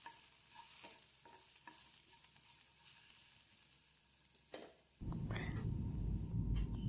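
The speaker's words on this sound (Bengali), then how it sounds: "আমটা একটু ভাজা ভাজা করতে হবে যতক্ষণ একটা সুন্দর গন্ধ ছাড়ছে" Mango pieces with five-spice and dried chilli drop into hot oil in a pan, a loud sizzle bursting out partway through after quieter stirring clinks and scrapes, then frying steadily to the end.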